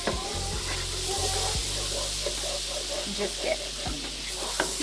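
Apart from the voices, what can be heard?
lemon sizzling while toasting in a pan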